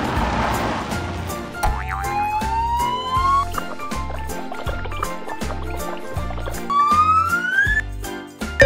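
A toy police car siren wails in rising sweeps over a bouncy, repetitive electronic tune with cartoonish boings, loud and close.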